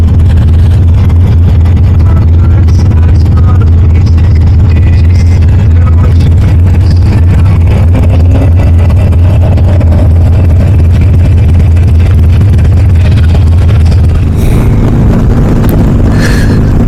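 Harley-Davidson Iron 883 fitted with a Hammer 1250 big-bore kit riding at speed, a loud, steady low engine drone with wind roar, shifting tone near the end.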